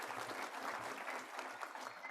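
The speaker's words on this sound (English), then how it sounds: "let's get a big round of applause from the kids" Kids at a graduation ceremony clap loudly as a group, with a continuous, even round of applause and no speech over it.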